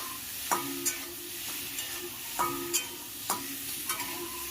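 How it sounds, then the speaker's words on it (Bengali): A spoon scrapes and knocks against a pan in repeated strokes while spices with turmeric sizzle steadily underneath. "এগুলি দিয়ে ভালো করে নেড়ে নিচ্ছি।"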